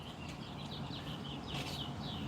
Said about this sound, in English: I'm going to listen to the birds sing for a bit.